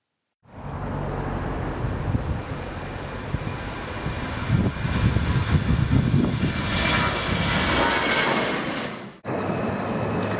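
An airplane flies over near Jeju airport, its broad engine roar loud and steady for about nine seconds before cutting briefly and resuming.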